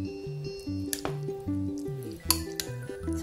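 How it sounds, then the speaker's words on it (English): Egg and tuna sandwich filling with salt and pepper is mixed in a bowl, giving soft wet squishing strokes with a few sharp utensil clinks against the bowl, close and unvoiced. "So continue mixing until the ingredients are blended"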